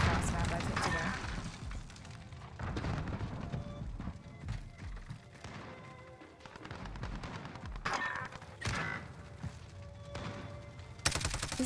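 Rapid bursts of gunfire from a gun in a shooter video game, repeated volleys across the span with brief gaps, loud and close, partly under a player's speech.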